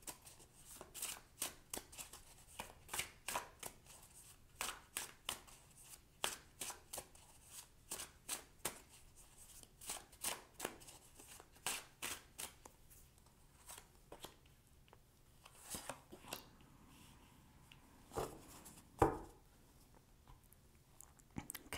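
Tarot cards being shuffled by hand, a long run of soft, crisp card riffles and taps in irregular bursts, close-up and fairly quiet, with no talking.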